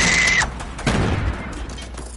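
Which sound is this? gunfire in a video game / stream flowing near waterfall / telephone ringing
gunfire in a video game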